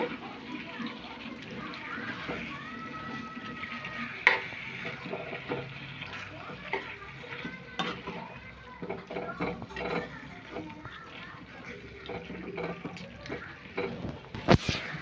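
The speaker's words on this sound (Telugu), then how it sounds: "పీసెస్ నీట్గా ఫ్రై చేసుకుందాం మనం దీన్ని అయితే" Chicken pieces fry in a pot for biryani, a soft steady sizzle with occasional clinks and stirring sounds beneath a person talking throughout.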